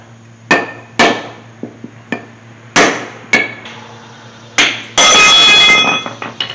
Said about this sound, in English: I'm going to just tap it and see if I can get it to move